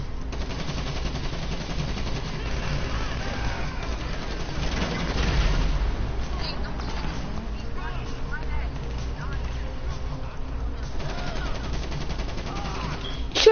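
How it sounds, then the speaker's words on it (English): Rapid gunfire in a GTA video game, aimed at porta potties, sustained bursts of machine-gun shots with booming impacts, heard under ongoing talking. "Shooting at porta potties"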